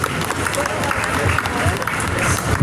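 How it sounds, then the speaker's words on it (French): An audience applauds participants at a cosplay contest awards ceremony in Japan, dense steady clapping from a crowd filling the short stretch, with some voices mixed in. "Applaudissez-vous vous-même, s'il vous plaît."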